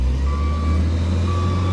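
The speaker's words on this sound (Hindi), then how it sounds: "अपना गाड़ी देखिए इधर लोड हो रहा है और ये रहा लोडर 26 लोड हो रहा है" A loader fills a truck at a crusher while a reversing alarm beeps in short steady tones over a constant low engine rumble. The sound is near, and no one talks.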